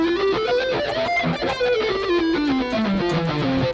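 A guitar scale is run across all six strings with uneven, sloppy picking, the notes climbing and then descending in a quick, ragged stream, close and moderately loud with nobody talking.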